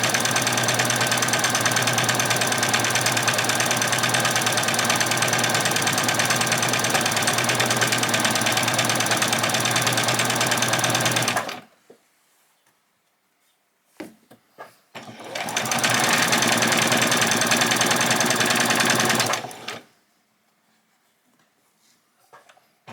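A sewing machine stitches a French seam through layers of ruffle fabric for a spring outfit, a loud close run of about eleven seconds, a pause with faint clicks, then a second burst of about four seconds.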